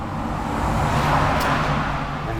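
Road traffic rumbles outside a window in a steady, continuous broadband wash of passing cars, moderately loud and unbroken, with no voices.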